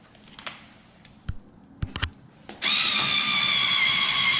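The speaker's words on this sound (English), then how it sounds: "right now we're just drilling the holes" After a few scattered knocks and clicks, a power drill spins up and whines steadily and loudly while drilling holes to mount an AC Cobra emblem, close by.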